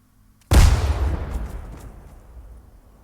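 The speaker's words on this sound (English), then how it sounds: "I'm just going to chuck a grenade over there." A thrown grenade goes off in Arma 3 with the Blastcore mod: one sudden, loud, deep blast that rolls on and fades slowly over a few seconds, with no talk over it.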